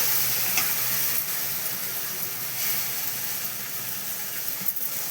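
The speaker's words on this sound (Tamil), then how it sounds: "பச்சை நோட்டம் போகிற வரைக்கும் வதக்கணும்" Onion and tomato paste sautéing in a pan for a Tamil crab curry, giving a steady, close sizzle and bubbling with faint scraping throughout and no voices.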